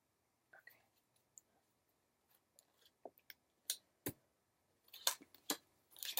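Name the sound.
cutting a deck of tarot cards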